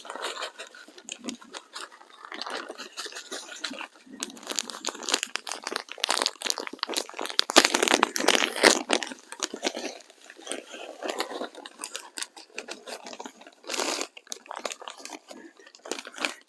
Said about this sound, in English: next I'm going to be adding some of the Terra Spider mix